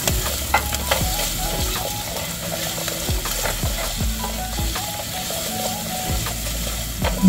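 White onion and garlic sautéing in a hot pan, a continuous loud sizzle with repeated scraping strokes of a spatula stirring, close up and steady throughout.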